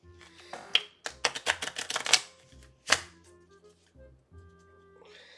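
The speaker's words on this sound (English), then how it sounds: "I am gonna shuffle the deck." Quick run of crisp riffling clicks as a deck of cards is shuffled up close, followed by a few softer taps and a sharp snap.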